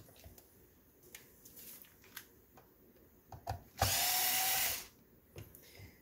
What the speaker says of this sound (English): So we're going to take these 2 screws off to pretty much get this board away.